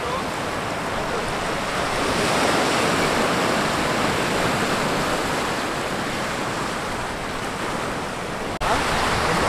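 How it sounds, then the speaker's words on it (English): Ocean waves wash continuously onto a Bahamas beach, a loud, full roar of surf with no breaks, ending in a brief click. "we just wound up at this other beach that's even prettier"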